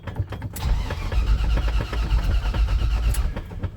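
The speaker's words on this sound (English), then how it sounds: "I like that starter sound." A starter motor from a 4.3 whirs rapidly as a carbureted Chevy square-body C10 truck engine cranks, a loud, fast, pulsing churn that continues steadily for several seconds without firing.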